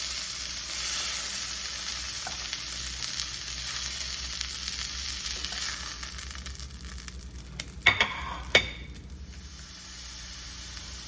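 Kofta meat browning in a hot pan, a steady close sizzle and hiss of frying running throughout, broken near the end by a few sharp scraping clatters as the pan is stirred or moved.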